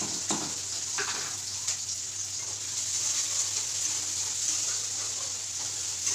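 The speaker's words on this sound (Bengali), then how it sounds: "ওই তেলেই আমি একটু সাদা জিরে আর পেঁয়াজ দিয়ে দিলাম" Cumin seeds and chopped onion frying in hot oil as a tempering in a home kitchen, giving a steady close sizzle throughout with faint stirring scrapes.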